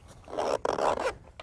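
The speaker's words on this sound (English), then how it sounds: "Zippers, as you can hear, are still doing good." A zipper on a rifle case is pulled in two quick rasping strokes, close and clear, with a short pause between them.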